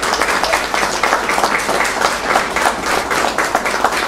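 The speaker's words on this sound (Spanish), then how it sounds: "quiero pedir un fuerte aplauso para la biblioteca" Audience applause for a library at a book presentation, dense steady clapping from a sizeable crowd, sustained and loud without a break, with no one speaking over it.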